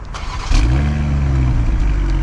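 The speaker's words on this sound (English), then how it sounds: "the dual exhaust, which we can start up because this has remote start" A 2025 BMW X4 M40i engine, started by remote start, cranks and catches at once, then settles into a steady, deep-throated idle with a rumbling dual exhaust note, close by.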